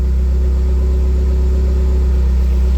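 Hyundai Genesis engine idling steadily after a remote start, a low constant hum that stays even and close throughout, with no voices.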